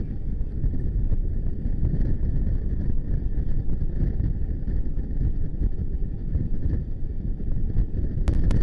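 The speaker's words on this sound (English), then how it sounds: "At the end of Bay of Fundy, it is absolutely amazingly windy through there." Strong wind roaring steadily across a microphone while riding a motorcycle at the end of the Bay of Fundy in wet weather, a loud continuous low rumble and buffeting with no pauses.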